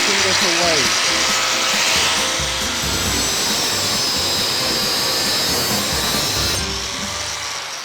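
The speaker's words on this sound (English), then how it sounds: "The angle grinder can be dangerous if you are not using it correctly." Angle grinder spinning up and running at a steady high-pitched whine, loud and close, with someone speaking over it at the start.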